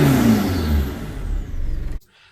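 A big-turbo Ford Courier ute engine runs loud and close under load, a steady broad drone with a whistling rise, then cuts abruptly to near silence in the final moment.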